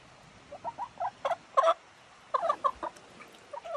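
Hens in a henhouse give soft, scattered clucks in short bursts, fairly close but quiet, with pauses between the groups and no talking.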